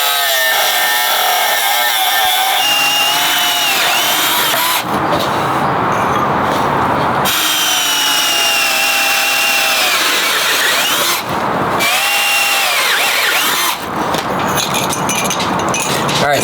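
A power tool cutting scrap aluminum pieces for brackets gives a loud, steady whining grind that runs throughout, with brief changes in pitch as the blade bites.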